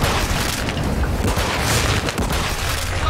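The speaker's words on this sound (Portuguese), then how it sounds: "Granada lançada." A grenade blast in the multiplayer mode of Call of Duty Warzone 2.0: a dense, loud, booming rumble that lasts the full stretch, heavy in the low end, with gunfire-like crackle and no voices.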